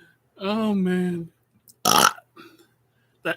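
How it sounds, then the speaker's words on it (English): A burp in three bursts: one long, loud, tonal belch followed by two shorter, rougher eructations, then a brief final pop, all close and alone with no talk. "that triple burp always gets me."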